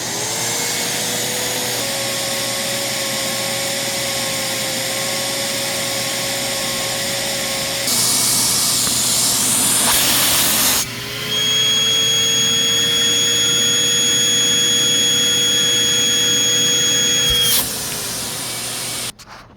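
A Lindhaus Healthcare Pro Eco Force vacuum cleaner runs continuously at close range with a loud, steady motor whine and airflow roar that shifts pitch and rushes louder at several moments, with no talking.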